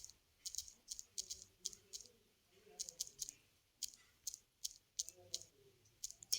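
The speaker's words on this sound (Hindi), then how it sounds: "तो यहाँ पे हम टाइप कर लेते हैं" Fingers tap a phone's on-screen keyboard while typing in an editing app, producing sharp, quiet clicks in irregular bursts of two to five taps separated by short pauses, with a faint murmur of voice underneath.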